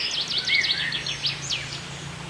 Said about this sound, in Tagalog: Ang sarap pakinggan ng agos ng tubig at huni ng mga ibon.